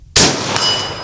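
Rifle bullet striking a steel target plate at 300 yards: one sharp, loud clang right after a short lead-in, then a bright metallic ring that hangs on and slowly fades.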